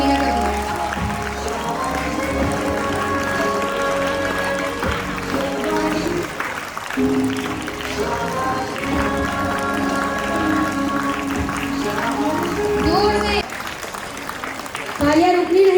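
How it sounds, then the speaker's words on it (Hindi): Parents and students clap together at a school annual function's award ceremony, steady continuous applause with cheering and voices mixed in, briefly dropping off before picking up again near the end. "तालियां रुकनी नहीं चाहिए।"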